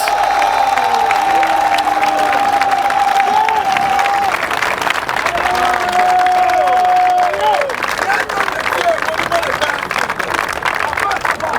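A church congregation acclaiming Jesus Christ, loud sustained applause and cheering from a large crowd with continuous dense clapping, while a voice rises above it in sung or shouted tones throughout.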